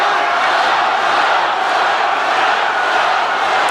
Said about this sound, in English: You hear the chants of the crowd yelling, Chuck, Chuck, Chuck.